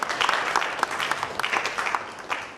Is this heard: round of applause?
yes